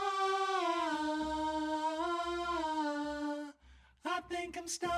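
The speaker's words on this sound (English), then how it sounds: "the clean vocals and I threw a really light flanger on there" Clean sung vocals treated with a light flanger in a psychedelic indie song, a sustained held note with a subtle swirling, sweeping modulation, followed after a brief gap by a few shorter sung phrases.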